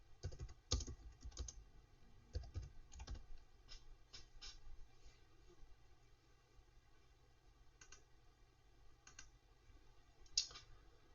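Steady typing on a computer keyboard, a run of light clicking keystrokes with brief pauses, close and fairly quiet.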